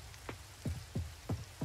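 Rain falls in the farming video game Coral Island, heard as soft, steady drops with a faint patter and a few low, regularly spaced thuds.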